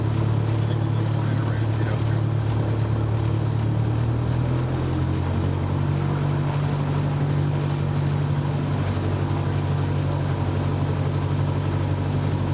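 A small aircraft taxiing toward active runway 14 along the inner ramp, its engine droning steadily and loudly throughout with a slight pitch shift partway through.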